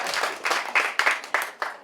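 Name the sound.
audience clapping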